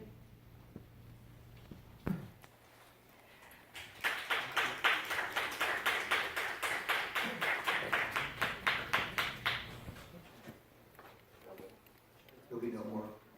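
Audience applause at a public meeting: a burst of steady, fairly close clapping lasting several seconds, rising and then fading, with talk before and after it.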